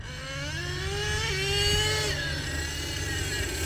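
An HPI Savage RC truck with a 3-speed gearbox runs in third gear, its motor whine climbing in pitch and then holding a steady, close, continuous drone with a slight dip near the end.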